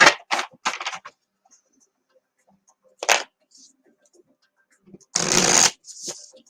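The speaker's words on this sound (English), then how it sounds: "I'm going to pull the Animum Money cards for you." Tarot cards shuffled by hand in a few separate bursts of close riffling and sliding, with quiet gaps between them during a live psychic reading.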